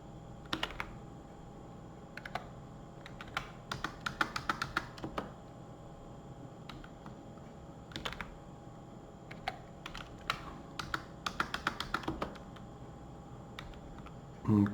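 Typing on a computer keyboard in a dim room, with steady, quiet clicking and irregular faster bursts of keystrokes throughout.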